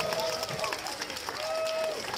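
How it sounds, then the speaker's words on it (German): Audience applause for a prize winner on an outdoor city-festival stage in Oldenburg: a steady wash of clapping from a crowd, mixed with a sustained tone and voices. "Und den Applaus auch, unsere Gewinnerin!"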